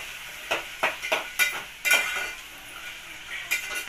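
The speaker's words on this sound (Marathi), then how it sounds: "आता आपण टाकून घेऊ बटाटे, शेंगदाणे आणि वाटाणे" A spoon stirs potatoes, peanuts and peas frying in a pan for a spiced vegetable pulao, giving a handful of sharp, irregular metallic clinks and scrapes over a light sizzle, close by with no talking.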